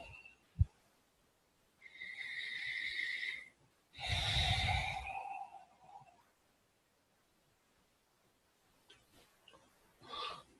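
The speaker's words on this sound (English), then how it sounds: "Take a series of larger than normal breaths." A few deep, drawn-out breaths sound close to the microphone, a long inhale followed by a louder, breathy exhale, then quiet with a faint rustle near the end and no talking.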